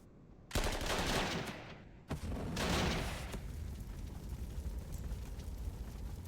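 Anti-aircraft gunfire from the World War II strategy game Panzer Corps 2 comes as two loud rattling bursts, the second trailing into a long rumbling decay, with no talk.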